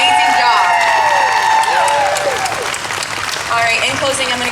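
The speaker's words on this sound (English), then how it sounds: "a big round of applause for all of our speakers today" An audience at an Ohio march gathering claps and cheers for the day's speakers, with loud, sustained applause, whoops and shouting voices rising over it, easing slightly toward the end.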